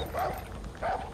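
A dog barking in Far Cry 5, two sharp close barks about half a second apart, heard alone without talk.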